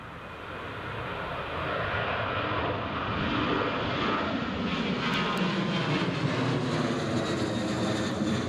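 Ryanair jet airliner at Newcastle International Airport, a loud, steady broadband engine roar that swells after the first couple of seconds and holds close and sustained throughout.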